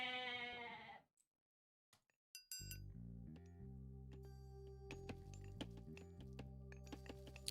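Goats bleat briefly in a strategy video game during a match. A short, clear bleat opens the moment, followed by a pause, a few metallic clinks and then steady background music.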